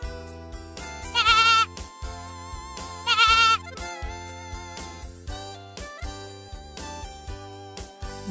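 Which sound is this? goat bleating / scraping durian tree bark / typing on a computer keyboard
goat bleating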